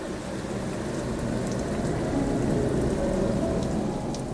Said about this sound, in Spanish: los dejo con el sonido de la lluvia